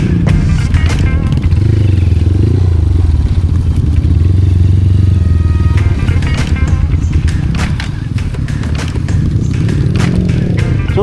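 A dirt bike's engine runs steadily on an enduro trail in Zamboanga City, a loud, close, rough drone with clatter and scraping from the rocky ground.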